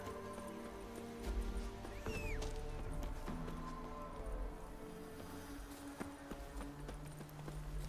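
Hooves of Roach, the horse in the video game Witcher 3, clip-clop in a steady trot at close range, with a brief whinny and faint ambient game sounds beneath.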